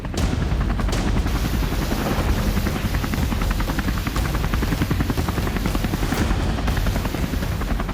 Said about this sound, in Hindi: ये है अमेरिका का AH-1Z वाइपर अटैक हेलीकॉप्टर।